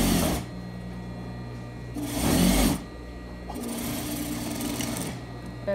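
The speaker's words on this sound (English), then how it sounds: "We're going to sew the underarm seam using a French seam." A sewing machine sews a French seam at the underarm of a set-in sleeve, whirring nearby in short bursts with one louder run in the middle and a steadier stretch after it.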